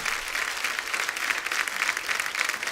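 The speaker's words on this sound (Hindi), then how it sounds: "एक बार जोरदार तालियां जीनत जी के लिए, अनीता जी के लिए, पूनम जी के लिए।" A studio audience on The Kapil Sharma Show applauds guests Zeenat, Anita and Poonam with brisk, lively clapping that holds steady from start to finish.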